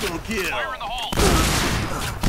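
An M1887 shotgun fires in rapid succession in a video game, loud bursts of gunfire crowding the second half, preceded by chirpy electronic game sounds.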